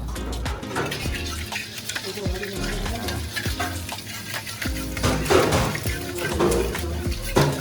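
Egg frying in hot oil for a Sri Lankan string hopper kottu, with steady close sizzling and repeated scraping and stirring of a utensil against the pan throughout.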